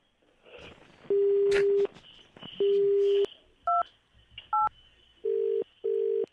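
A phone's keypad tones beep through a dialing sequence: two long tones, two short double beeps, then two more steady tones, fairly loud and clean.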